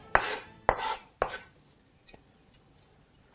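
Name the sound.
chopping onions on a board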